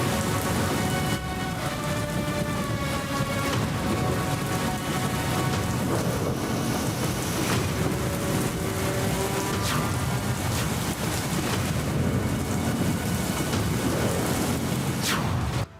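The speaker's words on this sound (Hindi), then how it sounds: "उत्तर भारत में बारिश भयंकर, सड़कें बनी समंदर।" Heavy monsoon rain pours steadily across northern India, a dense unbroken roar of downpour on flooded streets, with faint rumbles of thunder underneath and no voices.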